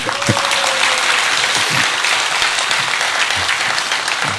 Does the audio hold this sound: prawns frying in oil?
no